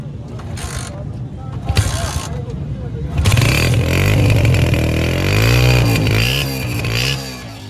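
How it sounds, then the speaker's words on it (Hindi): A 2024-model motorcycle at Hyderi bike market in Karachi starts up and revs loudly and close by, its pitch rising and falling over several seconds after a busy stretch of market chatter. "2024 मॉडल का साउंड सुनते हैं"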